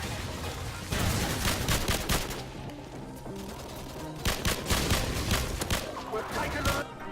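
G3 assault rifle fire in Modern Warfare Remastered, loud bursts of rapid shots in two main volleys close up, with a voice speaking over the gameplay.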